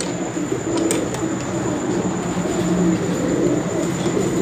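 Sialkoti and Kasuri pigeons coo softly and continuously, their low calls close by over steady background noise.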